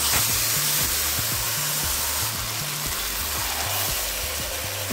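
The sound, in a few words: chicken added to frying onions in a pan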